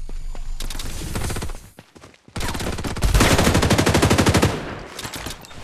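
Rapid automatic gunfire in the shooter game Farlight 84, loud sustained bursts of machine-gun fire with a brief lull, then a dense stretch of fast rattling shots and scattered impacts, no talk.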